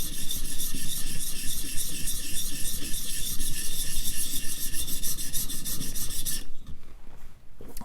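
A steel chisel edge is worked on a sharpener to raise a burr, producing a close, loud, rhythmic rasping scrape that stops abruptly near the end, leaving quieter handling noise.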